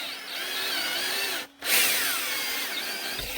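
A power tool reams the inside of a hole while making magazine holders, giving a loud steady whine that cuts out for a moment, then restarts and runs on close up.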